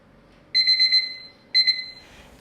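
A kitchen timer alarm rings while spaghetti cooks, two bursts of rapid, shrill electronic beeping separated by a short pause, clear and close in a quiet room.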